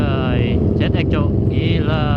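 A Kawasaki ZX-25R four-cylinder motorcycle engine wails in slow traffic, a loud, continuous high-pitched tone that rises and falls in pitch, with steady wind rumble underneath.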